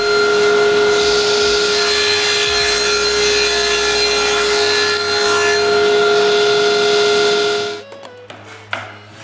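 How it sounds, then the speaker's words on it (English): Wooden jig pieces, glued and nailed together, get both edges trimmed with a power tool: a steady, loud cutting whine with a constant tone runs for about eight seconds, then cuts out into brief clatter and handling noise. "I trim both edges."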